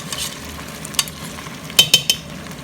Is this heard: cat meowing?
no